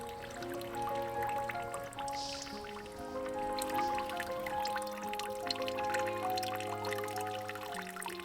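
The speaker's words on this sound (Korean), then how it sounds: "벽에서 흘러나오는 작은 분수에서의 물소리는 리듬으로 들려오네요" Water trickles from a small wall fountain in the Iford Manor garden in England. It is a soft, rhythmic dripping and splashing, with steady tonal sounds underneath.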